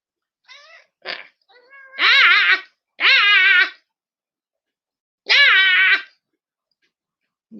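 A cat meows up close several times, giving a few short chirps and then three long, loud, drawn-out meows separated by pauses.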